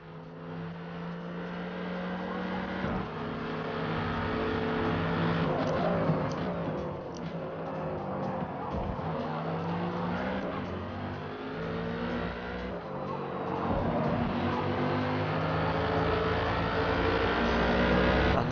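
Race cars, a Mercedes AMG and a Dodge Viper, battle on the Hockenheim circuit in the Forza racing game, their engines roaring close and loud with rising revs and gear shifts; no talk is heard.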